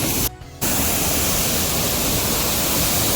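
Soormane waterfall near Kalasa in Chikkamagaluru during the monsoon, roaring as a steady, loud broadband rush of falling water close by, with a brief dip in the sound partway through.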